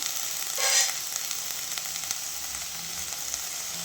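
Spices with turmeric and salt frying in a pan, a steady close sizzle with a brief louder spit early on and soft stirring, no talking.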